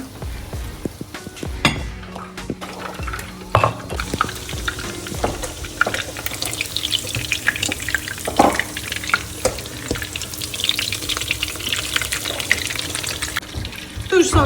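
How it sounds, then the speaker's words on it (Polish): Turkey schnitzels fry golden in a pan over medium heat, a steady sizzle of hot fat with scattered pops and clinks of utensils, continuous and close throughout. "smażyć nasze sznycle z obydwu stron na złoto na średnim ogniu."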